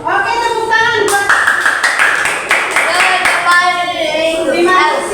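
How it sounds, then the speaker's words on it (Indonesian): Applause at a coding and artificial intelligence training session, close rhythmic hand claps rising over lingering voices, with a person talking through and after the clapping. "tepuk tangan buat"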